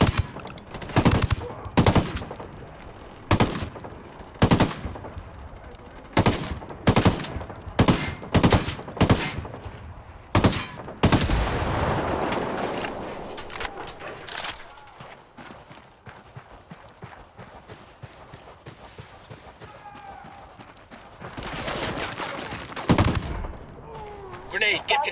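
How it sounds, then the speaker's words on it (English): Gunfire from the tactical shooter Ghost Recon Wildlands: loud, sharp shots in irregular bursts ring out through the first half, then a quieter rumbling stretch of combat with scattered reports and a final loud burst near the end. "I'm opening fire."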